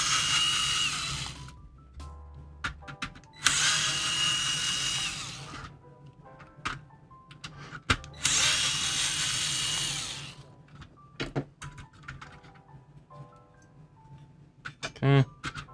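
A power drill unscrews screws from a Nintendo GameCube being modded, sounding in two loud sustained whirring bursts followed by shorter clicks, rattles and handling noises up close.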